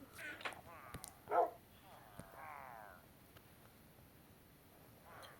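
In the Minecraft video game, a dog gives a few soft yips and whines amid game clicks and effects, fairly faint behind a quiet voice speaking.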